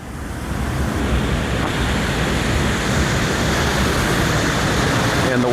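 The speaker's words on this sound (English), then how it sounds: "And the waterfall is raging." A raging waterfall at Hell Creek Cave in Arkansas roars as a loud, steady, broad rush of falling water, close and continuous with wind buffeting the microphone.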